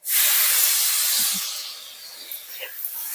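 Loud hissing sizzle erupts at once as chopped tomato hits hot tempering oil, steady and close, gradually easing into softer crackling with a few faint pops.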